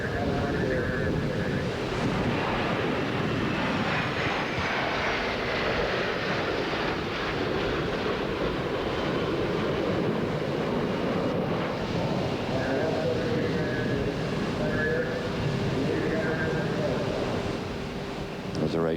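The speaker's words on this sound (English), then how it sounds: "Those are A-7s." A-7 military jets roar overhead at a flyover honoring a late news figure, a loud sustained broadband rush that swells and lingers for the whole stretch with no break.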